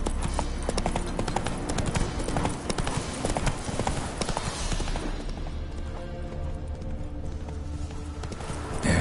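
Hooves of Roach, the horse in The Witcher 3 video game, clip-clop in a steady, dense galloping rhythm, loud and close throughout, with a soft voice briefly audible.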